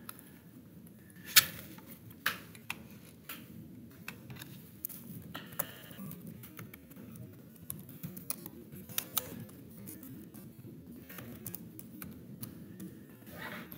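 Someone types on a computer keyboard, producing quiet, irregular clicks with a few sharper keystrokes standing out over soft room noise.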